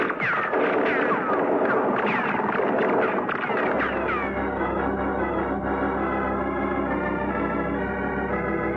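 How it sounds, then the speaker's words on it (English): Gunfire from a ruined tower on the shore, produced as a radio drama effect: a rapid burst of sharp shots with echo, then a sustained rumbling roar. "The shooting, Effendi. It is coming from the shore."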